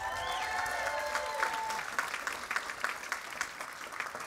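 Applause fills the room at a college graduation ceremony in Oakland, honoring faculty and staff, a moderate steady clapping with some distinct sharper claps. Faint cheering or whistles sound early on.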